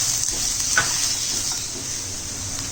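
Cubed onion sautés in a pan with ginger garlic paste, a steady hissing sizzle with a few soft stirring scrapes, close up and unbroken, no one talking.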